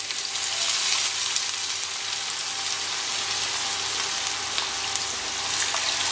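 Chopped onions frying in a pan for chicken Chettinad curry produce a continuous soft hiss and crackle, close and even, with no voices.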